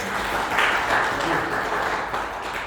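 An audience claps at an event, a dense steady patter of applause mixed with some voices, fairly close and sustained before tapering slightly.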